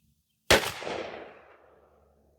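A 28 gauge Tristar Viper shotgun with a Trulock choke fires one Rocky Ridge 2-3/4 inch 1-5/8 oz #9 TSS shell outdoors, a single sharp, loud blast after a short silence, trailing into a long fading echo.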